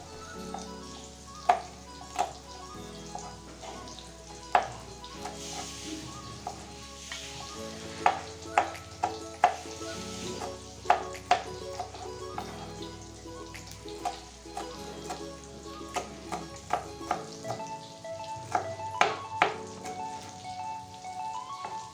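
Tempeh frying in a pan with oil for an Indonesian oseng-oseng stir-fry, giving a steady sizzle under repeated sharp clinks and scrapes of stirring, with soft background music.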